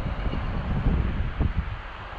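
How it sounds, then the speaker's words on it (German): Strong gusts of wind in the Lapland wilderness rumble and buffet against the microphone in uneven low surges, a continuous blustery roar with no one speaking. "Wir haben hier gerade einen extremen Wind, jetzt kommt Gegenwind dazu"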